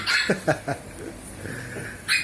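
A dog gives a few short yips and whimpering cries close by, spaced irregularly over a quiet background.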